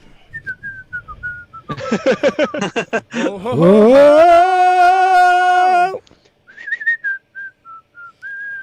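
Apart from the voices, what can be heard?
person whistling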